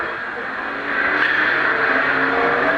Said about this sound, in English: Andrew Morrison car in front of him